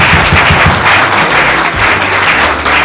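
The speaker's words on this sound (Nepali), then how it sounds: "ल लगाइदिनु सब पुरै हामी ताली बजाइदिउँ" At a Christian wedding, guests clap loudly and continuously after the ring ceremony for Krishna and Sirjana, a dense, close round of applause that fills the whole moment.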